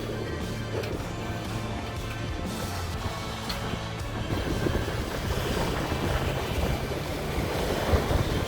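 Ocean surf rolling onto a beach near West Palm Beach, a steady broad wash of breaking waves with wind rumble on the microphone, continuous and fairly close throughout.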